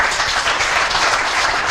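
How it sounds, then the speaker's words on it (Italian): Dense, steady audience applause filling the space at a cycling event, the Giornata Rosa gathering in Negrisia, a continuous wash of many hands clapping with no pauses. "Grazie per l'applauso"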